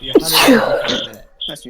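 A single sharp sneeze bursts out near the start, followed by people talking close by.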